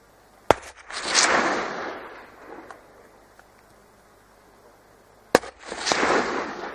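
Two sharp rifle shots during a deer hunt in a New Zealand national park, about five seconds apart, each a loud crack followed by a long rolling echo through open terrain.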